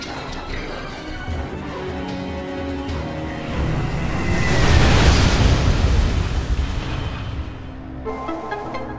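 A bombing run in Metroid Prime 3: Corruption sets off a heavy explosive rumble that swells loudly through the middle and then eases into lighter clattering debris.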